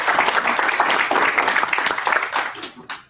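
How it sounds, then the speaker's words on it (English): Audience at a small startup pitch event applauding, a dense, steady round of clapping that tapers off with a few last scattered claps, with voices briefly audible underneath. "Let's give Gore a round of applause."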